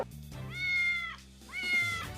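Two long, plaintive meows from shelter cats looking for a home, each rising and falling, sounding close and clear with a short pause between them.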